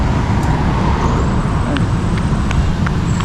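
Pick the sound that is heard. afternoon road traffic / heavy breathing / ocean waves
afternoon road traffic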